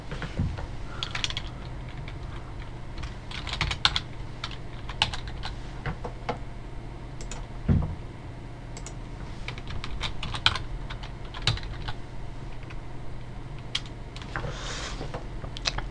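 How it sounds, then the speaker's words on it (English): Keys clacking on a computer keyboard as a password is typed during a Windows 2000 install on Virtual PC, an irregular run of close, crisp taps and clicks over a low steady hum. "I still need to type in the password for the operating system to run."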